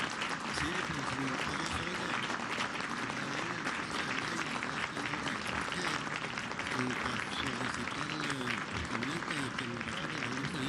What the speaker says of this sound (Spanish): En 3, 2, 1, el aplauso para